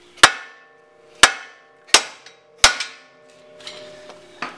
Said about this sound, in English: just got to get it with a hammer and bash it on through